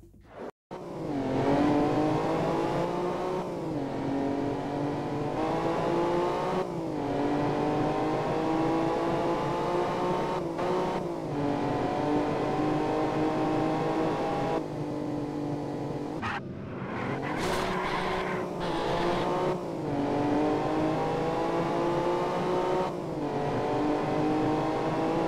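Race cars from the driving game Evolution GT roar continuously, engines revving and shifting pitch as cars overtake one another, loud and close throughout with occasional tire squeal.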